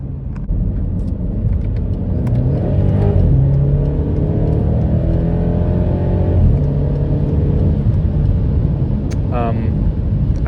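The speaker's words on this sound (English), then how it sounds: "The engine sounds nice. Like the revving, the kind of resonance from it sounds great at high RPMs." A BMW X5M engine revs loudly while accelerating, a steady close-up roar with rising harmonic sweeps, heard from inside the car.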